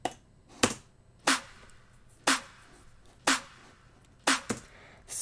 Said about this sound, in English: Okay, and then we have the snare.